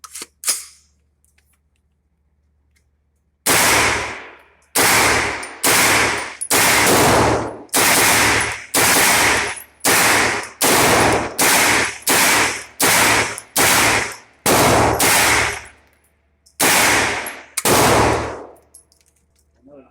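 An AR-9 16-inch carbine fires a string of loud, sharp single shots close by, irregularly spaced with brief pauses, after a few seconds of near silence.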